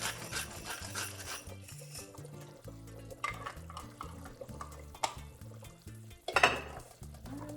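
Spoon stirring tortilla-less soup in a pot, soft scraping and liquid swishing with occasional light clinks against the pot, faint and close with no voices.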